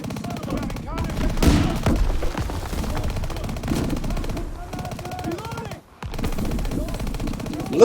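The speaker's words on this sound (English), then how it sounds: "Artillery's hitting the beach!" Heavy gunfire and artillery blasts roar without pause through a beach assault in the Call of Duty WWII video game, rapid machine-gun bursts layered over deep booming impacts, with shouted voices mixed into the din.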